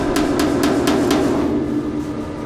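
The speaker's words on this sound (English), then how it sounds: "So we're gonna just tap this down." A hammer taps down welded sheet metal on a Ford F100 body panel, five sharp, evenly spaced metallic taps close by, followed by a steady background hum.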